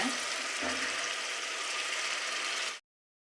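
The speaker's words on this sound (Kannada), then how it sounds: "ಇದು ಈರುಳ್ಳಿ ಸ್ವಲ್ಪ ಫ್ರೈ ಆಗಿದೆ" Chopped onions sizzling steadily in hot oil in a pan with bay leaves and kasuri methi for vegetable kurma, a loud continuous fry that cuts off abruptly.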